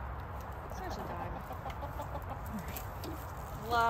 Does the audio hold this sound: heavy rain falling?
no